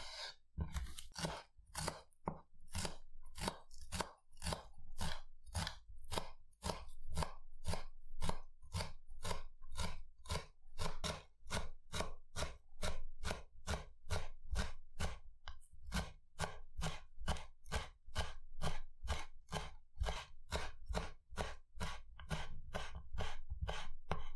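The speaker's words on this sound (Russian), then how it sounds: "Мелко измельчаем полпучка укропа." Half a bunch of dill finely chopped with a knife on a board, a steady, fast run of crisp close knife strikes repeating evenly throughout with no talking.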